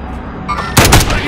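Sniper rifle shot in an online shooter game: a brief quiet lull, then one sharp, loud crack with a short booming tail.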